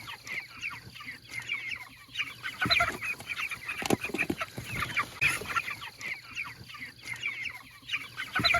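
Young guinea fowl on a farm keep up a busy chorus of chirps and clucks, several birds close by, steady and overlapping with scattered louder calls.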